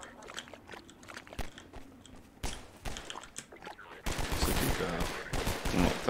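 Gunfire while shooting at enemies in Half-Life 2, a string of sharp cracking shots at irregular intervals, building into a denser, louder burst of rapid fire near the end.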